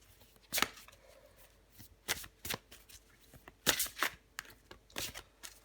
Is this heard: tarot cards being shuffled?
yes